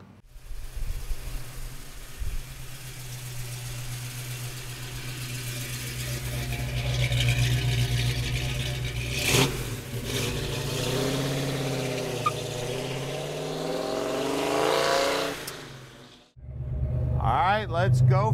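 A 1967 Ford Mustang GT500 recreation's engine idles with a steady low rumble, then revs and pulls away, its pitch rising and falling as the car drives, close and fairly loud.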